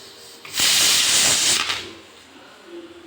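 A pressure cooker whistles while quail curry cooks, a loud rushing hiss of steam bursting out suddenly and holding steady for about a second before cutting off, leaving a quieter background.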